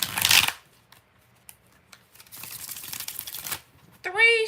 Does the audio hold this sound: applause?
no